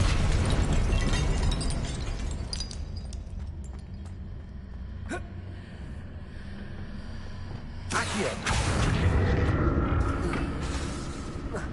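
Confringo blasting spell explosions in the Hogwarts Legacy video game, heavy booming bursts that swell and fade, with a sharp crack midway and another loud eruption near the end.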